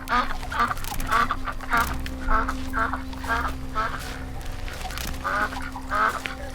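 Ducks in a film scene quacking in a steady repeated series of loud, nasal calls roughly every half second, set over a low constant hum with no talking.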